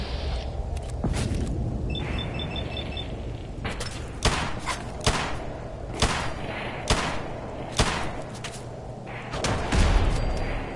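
Heavy single shots from a Magnum revolver in Fallout 4 ring out one by one at roughly one-second intervals against turrets, loud and punchy over low lab ambience, with faint electronic beeps early on.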